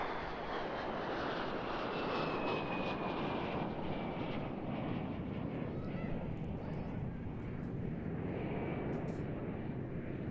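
de Havilland Vampire Mark 6 export jet with a Goblin engine passing at an airshow, a loud steady roaring rumble with a faint shifting whine, distant and continuous, an announcer's voice faintly underneath.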